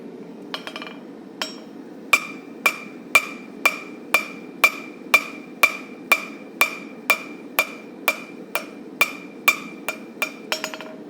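A hammer rings sharply on the edge of a blade being forged from a railroad spike: about eighteen loud, evenly spaced metallic strikes, close and steady, with no talking.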